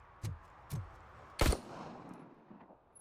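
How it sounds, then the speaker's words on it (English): Enemy gunfire in RoboCop: Rogue City: three sharp, separate shots about half a second apart, the last the loudest and nearest, followed by a decaying rumble and faint trailing noise. "They're shooting."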